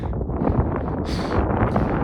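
Strong wind buffets steadily on a high mountain trail near Ice Lake on the Annapurna Circuit, around 4,600 meters, a constant broadband roar with a brief gusty hiss partway through.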